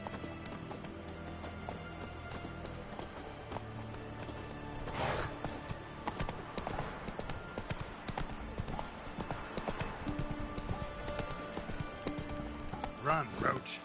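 A horse gallops in The Witcher video game, a loud continuous clip-clop of hooves with a whinny partway through, under game background sound and a voice speaking.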